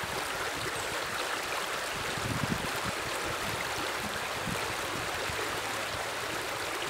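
River water rushes steadily across a channel, a broad, constant hiss and gurgle of flowing current heard close by without any voices.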